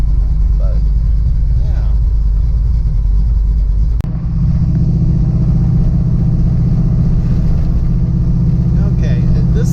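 A 1933 Ford Tudor with a big-block engine gives a steady, mellow low rumble throughout, loud and continuous, with a voice speaking briefly over it.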